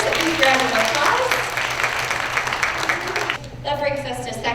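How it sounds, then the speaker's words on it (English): Crowd applause for first graders at a school Student of the Month assembly, a dense wash of clapping that carries steadily for several seconds before thinning out, with voices speaking over it near the end. "Let's give all of our first graders a big round of applause."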